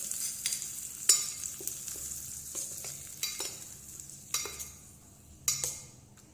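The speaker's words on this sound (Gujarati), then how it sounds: "આ વઘાર આપણે ચટણીમાં એડ કરી લઈએ અને મિક્સ કરી લઈએ" A tempering of browned urad dal, asafoetida and curry leaves is stirred into chutney, with faint sizzling under a series of distinct spoon scrapes and clinks at irregular intervals, close and quiet.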